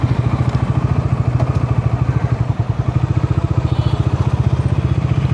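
A Bajaj Dominar 350 motorcycle engine thrums with a steady, rapid low pulsing while being ridden, loud and close throughout with no talk over it.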